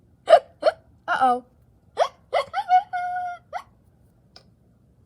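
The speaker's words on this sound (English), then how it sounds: "Now I have the hiccups." A cartoon character from a children's picture book called Hiccup! lets out a string of loud, close, voiced hiccups, sharp and squeaky one after another, with a short spoken exclamation among them and quiet between bursts.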